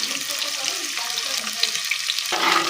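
Cut onions drop into heated oil and fry with a loud, close, continuous sizzling hiss that swells briefly near the end, with no talking.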